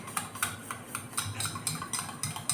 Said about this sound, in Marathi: आता ह्या विस्करच्या मदतीने ना मी हे व्यवस्थित असं मिक्स करून घेते.